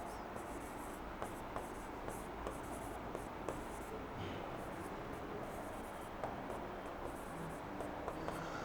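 A pen writing a sentence in Hindi, a faint continuous scratching across the page with small ticks at the starts of strokes, quiet and close.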